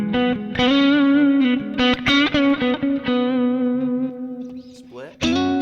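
A clean electric guitar plays through a Matchless Brave amp with an H speaker, ringing out sustained chords and single notes with strong attack, loud and close, alone without talk.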